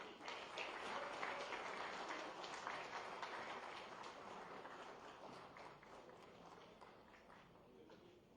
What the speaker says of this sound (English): So please give sir a round of applause.